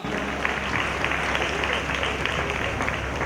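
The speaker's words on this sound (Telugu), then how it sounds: "గట్టిగా చప్పట్లు కొట్టి" Crowd at a Velankanni Matha festival in Samaladivi, Eluru, applauding loudly to welcome guests, a continuous dense wash of clapping without pauses.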